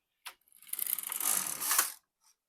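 An LK150 mid gauge knitting machine carriage is pushed across the needle bed in one sliding, clattering pass of about a second and a half, close and fairly bright, with a short click before and after and no talk.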